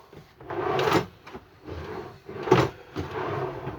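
Kitchen cabinet drawers in a caravan slide open and shut several times, close and distinct, each a rolling slide ending in a soft knock, with quiet pauses between.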